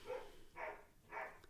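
A dog gives three quiet barks spaced about half a second apart, faint and somewhat distant in a low-level room.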